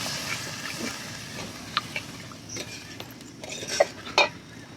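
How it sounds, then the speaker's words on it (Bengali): Spice paste frying in a pan after a splash of water, soft low sizzle with a utensil stirring and a few sharp metallic scrapes and clinks near the end, fairly quiet and close. "এবার আমি একটু জল দিয়ে ভালো করে আর একটু ভেজে নেব।"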